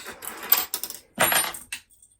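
Keys for a five-lever bolt lock are set down, giving a few quick, close metallic clinks and jingles in two short bursts, with no talking.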